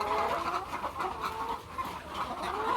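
Chickens cluck continuously close by in a short burst of farmyard sound, with steady overlapping calls and no talking.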